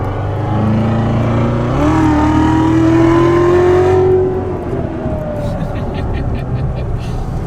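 Callaway-tuned 757-horsepower C7 Corvette Z06 accelerating hard nearby, its engine note climbing loudly for a couple of seconds, then easing off as the car pulls away, with people talking over it.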